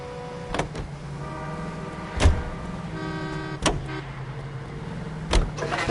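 A car drives in L.A. Noire: a low engine hum runs steadily with several sharp thumps and knocks at intervals and a brief rising whine, with no voices heard.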